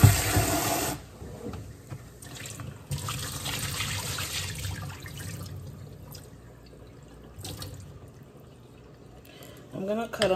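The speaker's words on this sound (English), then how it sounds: "I'm gonna pour some water in there" Water pours and splashes over raw beef liver in a bowl to rinse out the blood, a close, moderately loud rush that trails off into lighter trickling and handling noises.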